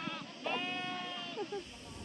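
Several goats in a herd bleat in overlapping, wavering cries close by, with a voice talking softly among them.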